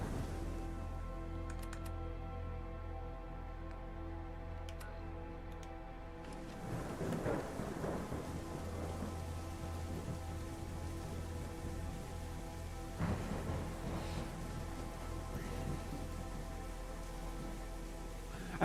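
Steady rain falls in the post-apocalyptic London of the video game Fallout London, and deep rolls of thunder rumble through it twice. The second clap is the nearer and heavier of the two.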